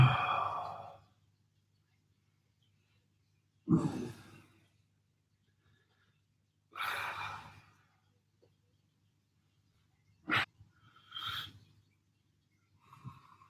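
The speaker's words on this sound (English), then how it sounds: "Sit, big deep breaths." Slow, deep breaths during a home recovery workout session: a long exhale opens, then several more heavy breaths arrive a few seconds apart, close and fairly soft, with quiet gaps between them.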